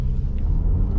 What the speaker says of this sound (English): Let's put it on race and just listen to this car perform.